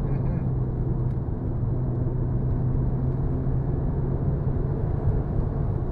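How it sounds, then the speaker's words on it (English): A modified Mazda RX-7's rotary engine and generous exhaust heard from inside the cabin, a steady low droning rumble at constant load, fairly loud and unbroken for six seconds. "It sounds kind of nice too, despite the fact it's got a fairly generous exhaust system."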